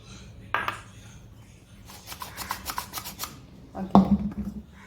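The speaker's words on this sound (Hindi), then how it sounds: "पहले ऊपर से मिक्स करना है फिर नीचे लेके जाना है ऑयल के पास" Cake batter for a three milk cake being stirred with oil in a bowl, giving soft scraping and light clinks of a utensil against the bowl, with a louder knock near the end.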